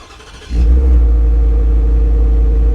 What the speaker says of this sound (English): this will be the first time I've heard a cold start with the dual exhaust on the 5-liter V8